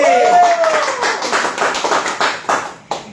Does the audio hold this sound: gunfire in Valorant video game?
no